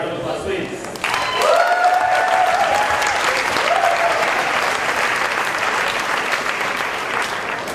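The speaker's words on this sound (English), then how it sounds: "A round of applause, please." An audience at a nerd night talk breaks into applause about a second in, a dense, steady clapping that fills the room and holds at full strength to the end.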